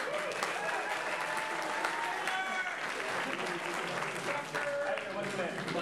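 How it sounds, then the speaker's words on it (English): Audience at a university physics club show applauding a volunteer, sustained loud clapping with cheers and voices mixed in, steady for several seconds. "Let's give him a round of applause"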